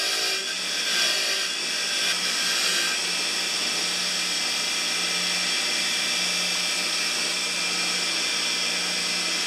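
A power tool whirs steadily and loudly while cleaning a 5/16 muffler bolt from a 1977 John Deere tiller, a continuous high-pitched grinding drone with no talk.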